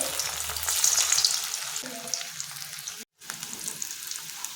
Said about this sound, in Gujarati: એની અંદર આપણે બટાકીઓને તળી લઈશું